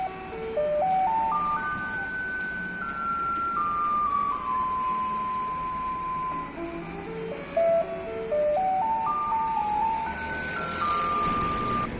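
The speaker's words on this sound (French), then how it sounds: "ici à Taïwan, il s'agit des camions poubelles qui jouent un extrait de la célèbre musique de Beethoven, La lettre à Élise" A garbage truck in Taiwan plays Beethoven's Für Elise in tinny electronic tones, the tune repeating over a rumbling engine and street noise.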